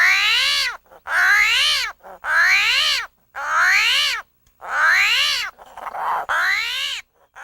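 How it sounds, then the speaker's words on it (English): An armadillo screams in a series of loud, harsh wailing cries, about six drawn-out bursts separated by short silences, close and alone. "it's an armadillo that is screaming mad as he's just been picked up suddenly and was quickly placed down"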